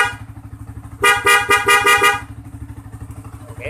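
Pair of Denso waterproof horns, mounted left and right on an older Yamaha Vixion motorcycle, blasts about six quick close, loud honks in a row over the steady putter of the idling engine.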